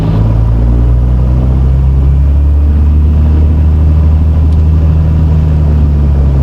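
A light aircraft engine held at 1500 rpm during a run-up, producing a loud, steady, droning rumble that stays even and unbroken throughout.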